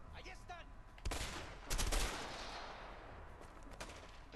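Gunfire rattles through a close-range shootout in the video game A Way Out, with loud bursts around the one- and two-second marks and scattered shots continuing over a steady background din.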